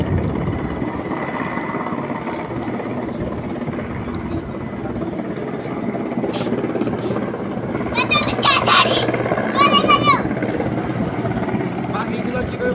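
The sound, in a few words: helicopter flying overhead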